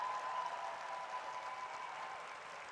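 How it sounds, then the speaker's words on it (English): Faint, steady applause from an audience honoring cancer survivors at a Relay For Life summit session, soft and distant, gradually tapering off. "let's give these great folks a big round of applause."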